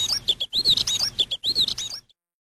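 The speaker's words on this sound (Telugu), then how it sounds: "పిచ్చుకలు బాధతో ఏడ్చాయి." Sparrows cry out in distress with a rapid burst of high, thin chirps and tweets in quick clusters, fairly close and clear, broken by two short pauses before fading out.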